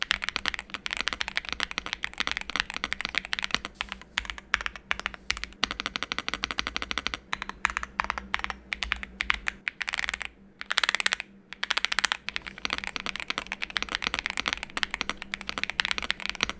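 Keys clatter in a fast, steady run of typing on a mechanical keyboard, close and crisp with a couple of short pauses.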